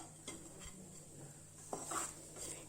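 Grated coconut roasts in a pan over a medium flame for besan laddu. Soft, faint stirring scrapes and light spatula taps sound over a quiet background sizzle, with no voices.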